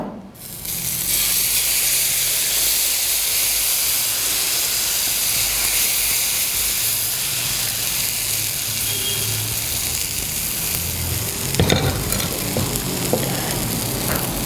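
Besan dosa batter cooks on an oiled tawa with a loud, continuous hiss and sizzle that holds steady throughout, and a few brief clinks near the end.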